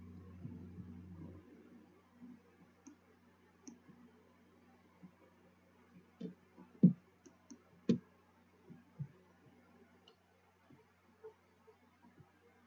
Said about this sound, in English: I'm gonna go back to sequence view and click on one of these frames.